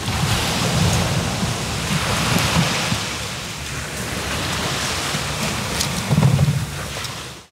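Sea waves wash onto the shore of a remote island in a continuous broad roar of surf with gentle surges, steady and fairly loud, with no one speaking.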